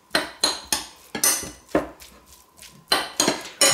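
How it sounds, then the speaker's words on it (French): A utensil clacks against a bowl while chives and olive oil are mixed, giving about a dozen sharp, close knocks in an uneven rhythm with brief pauses between strokes. "On mélange tout ça."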